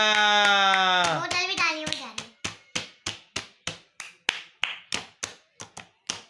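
Children clap for the winner of a bottle flip game on a bed with a slow, loud, evenly spaced run of about a dozen sharp claps, after a speaking voice at the start.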